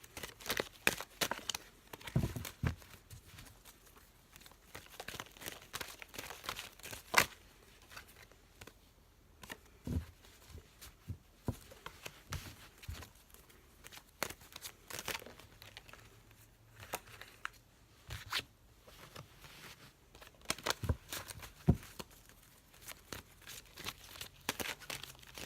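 Repeated quiet riffling and flicking of cards, with brief crisp bursts scattered across a long stretch, no talking, close to the microphone.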